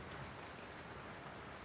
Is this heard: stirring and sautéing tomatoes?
no